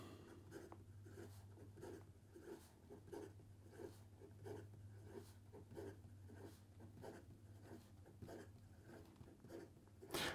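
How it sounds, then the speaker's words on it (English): A Kilk Celestial fountain pen nib writes fast on paper, a faint, close scratching in quick repeated strokes under a low steady hum, with no voices. "And then in regard to some fast writing,"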